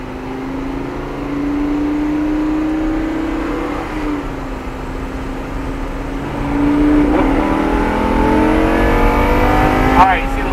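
Lamborghini LP560-4 engine building revs as it accelerates around a race track at NOLA Motorsports Park, a steady loud drone climbing in pitch, with voices talking over it.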